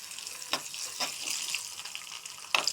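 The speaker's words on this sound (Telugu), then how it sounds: "ఆవాలు, జీలకర్ర, తెల్లగడ్డ, కరివేపాకు, ఎండుమిర్చి, కొంచెం ఇవన్నీ బాగా ఫ్రై చేసుకోండి." Mustard seeds, cumin, garlic, curry leaves and dried chillies frying in a pan for dal, a continuous close hiss with a few sharp spoon taps and crackles.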